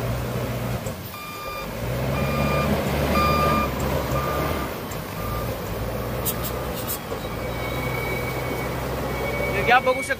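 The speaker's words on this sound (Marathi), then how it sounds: "लिगॉंग 818 व्हील लोडर" A LiuGong 818N wheel loader runs with its engine droning steadily while its reversing alarm beeps in a regular repeating pattern, and someone talks over the machine throughout.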